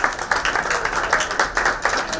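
Round of applause at a children's world record fest citation ceremony, steady rhythmic clapping from a modest crowd, fairly close and continuous throughout.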